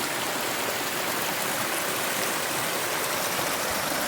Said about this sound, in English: That's the waterfall I was talking about.